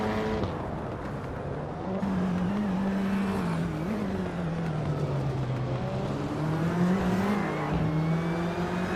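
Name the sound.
car engine racing in a video game, 2018 Peugeot 308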